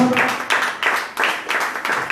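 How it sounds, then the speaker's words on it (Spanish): A church congregation claps for the Lord, a dense burst of rapid applause with rhythmic swells, fairly loud and close, with no talk over it. "Le damos un fuerte aplauso al Señor"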